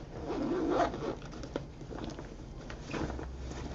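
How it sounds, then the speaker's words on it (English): A top-pocket zipper on a Ju-Ju-Be backpack is drawn open with a quick, close, scratchy rasp, followed by softer intermittent zipper scrapes. "Now the top has another zipper right here"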